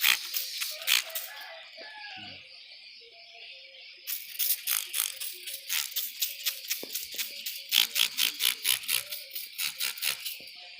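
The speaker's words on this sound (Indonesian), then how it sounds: "kita semprot aja ya." A pest sprayer mists chili plants to kill insect pests such as caterpillars, aphids and grasshoppers, giving a steady hiss and then a run of rapid, rhythmic spray bursts, close and fairly loud, with no talking.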